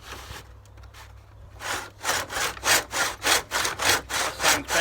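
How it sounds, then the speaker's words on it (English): A two-handed rip saw cuts through a thick wooden plank in a workshop. After a quiet, scratchy start, about ten rasping strokes follow in a steady back-and-forth rhythm, loud and close. "It's going to take me about half an hour to saw"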